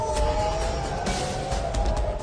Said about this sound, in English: You can hear the sirens are going off right now